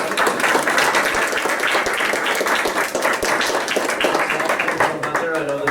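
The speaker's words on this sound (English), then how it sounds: "how about a round of applause for all of our candidates?" Audience at a Town of Monument candidate forum applauds the candidates, a dense, steady spread of clapping that fills the room from start to finish, with a voice briefly audible near the end.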